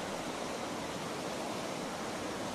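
Nõmmeveski waterfall in Lahemaa National Park, Estonia, a steady broadband rush of falling water, constant and fairly loud with no other sounds over it.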